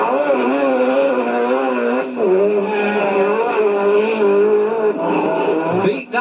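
Rallycross cars race on a mixed track, several engines revving and droning with wavering pitch as they accelerate and shift, closing with a brief tyre squeal, fairly loud and near.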